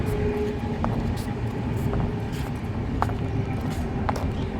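A train rumbles past on the railway line near Kollam, a steady close, loud roll with faint periodic clanks, nearly alone without talk.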